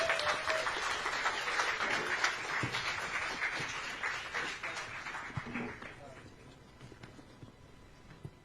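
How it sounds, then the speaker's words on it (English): A town hall audience applauds its panelists, steady clapping that slowly fades, with voices talking over it. "So a big round of applause for our panelists."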